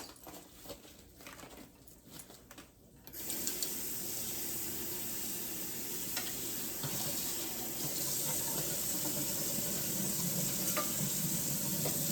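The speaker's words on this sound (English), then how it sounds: "Rinse off these mushrooms." Tap water runs steadily into a kitchen sink while mushrooms are rinsed, a continuous close splashing wash that starts abruptly after a few quiet seconds and grows slightly fuller toward the end.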